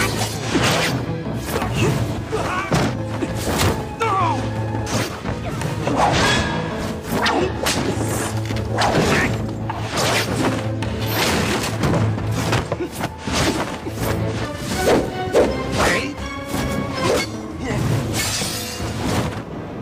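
Fight effects from a wuxia martial arts drama: rapid whooshes, whip cracks, thuds and shattering impacts follow one another densely over a musical score, with voices shouting now and then.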